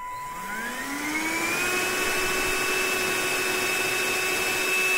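Vacuum cleaner with a liquid suction nozzle, its motor spinning up with a rising whine and then holding a steady loud roar close to the microphone.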